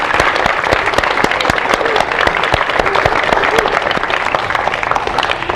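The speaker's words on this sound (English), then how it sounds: "Let's give them all a big round of applause" A crowd applauds park staff at a community gathering, steady dense clapping with sharp individual claps throughout, loud and sustained.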